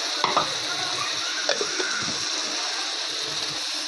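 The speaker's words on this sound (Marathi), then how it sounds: "मस्त मसाला परतून घेतला आहे मी" Garlic and coconut masala sautéing in a pan, a steady close sizzle with scattered scraping stirs of a spoon against the pan, no voices over it.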